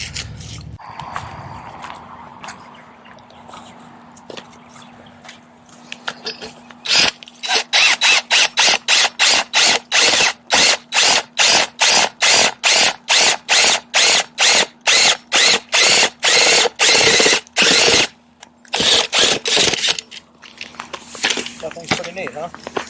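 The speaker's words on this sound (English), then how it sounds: "Roots down there grabbing and spinning, locking the drill out." A cordless drill driving an auger bit into root-filled ground fires in rapid, loud, repeated bursts that stop and start as the bit grabs and locks up in the roots, with voices heard at times.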